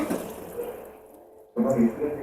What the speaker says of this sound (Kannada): ಇದಕ್ಕೊಂದು 1/4 ಲೋಟದಷ್ಟು ನೀರು ಹಾಕ್ಕೊಳ್ತೀನಿ.